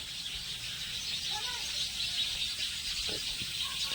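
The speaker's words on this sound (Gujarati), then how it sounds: "આપણા જો સરગવામાં ને આંબામાં ચકલા જો બોલે" Sparrows chirping in drumstick and mango trees, faint scattered tweets behind a constant hiss of outdoor insect and ambient noise.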